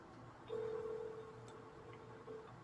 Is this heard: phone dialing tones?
yes